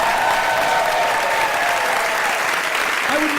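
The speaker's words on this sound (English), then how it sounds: "I would like you to have a huge round of applause for Mr. Adam Savage." Loud, sustained applause from a large comedy-club crowd, thick and continuous, with a few faint cheers or voices mixed into the clapping.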